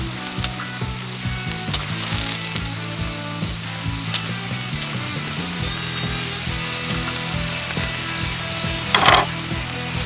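Chicken galbi and cabbage stir-fry on a hot cast iron pot lid, a constant close sizzle broken by repeated scraping and clattering strokes of a utensil against the metal, with one sharper burst near the end.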